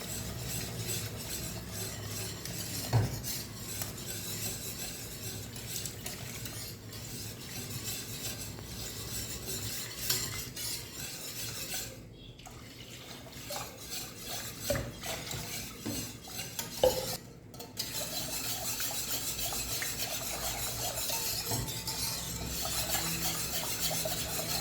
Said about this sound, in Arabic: اذا انا غادي نحرك بهذا الشكل